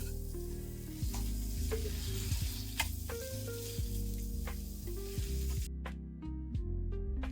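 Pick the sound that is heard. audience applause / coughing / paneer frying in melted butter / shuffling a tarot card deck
paneer frying in melted butter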